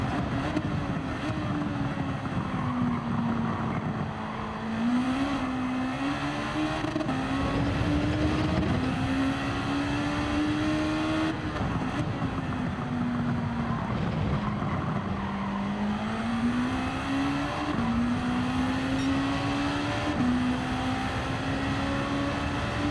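GR3 race cars in a video game lap the Nürburgring, engines droning steadily with rising and falling revs as gears shift, a continuous loud motor whine with occasional tire noise and no talk.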